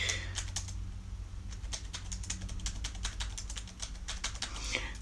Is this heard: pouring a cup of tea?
no